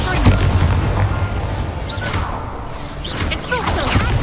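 An Expulso explosion spell goes off in Hogwarts Legacy, with heavy booming blasts and crackling debris. The rumble stays continuous and loud, and a voice can be heard faintly in the mix.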